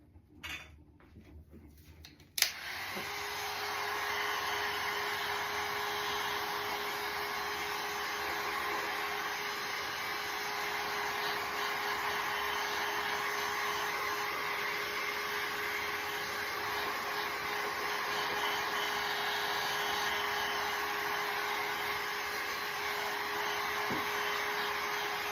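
A hair dryer blowing on reverse decoupage on glass; after a few soft handling clicks it switches on and runs as a loud, steady whooshing drone to the end.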